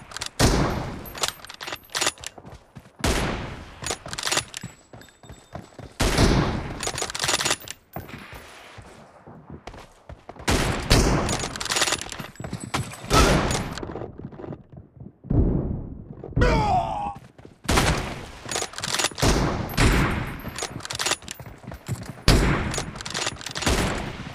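Gunfire in a first-person shooter video game, with repeated loud bursts of rapid shots and single cracks separated by brief pauses, heard close and alone across the whole stretch.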